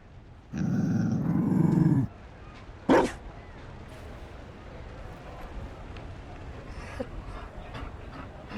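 A Mabari war dog in the video game Dragon Age Inquisition gives a short growling bark-like burst, then a sharp second yelp a moment later, over quiet ambient background.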